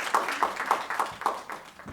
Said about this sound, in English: Claps for them, please.